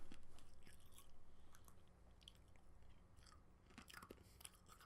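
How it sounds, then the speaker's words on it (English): Someone chews and crunches ice close to the mic, with irregular crisp crunches and bites that are quiet, with no talking. "Crunchy ice."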